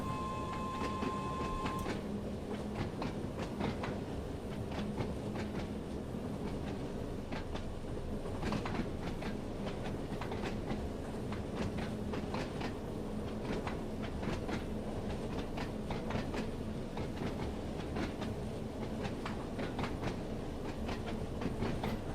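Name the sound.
train running on rails, video game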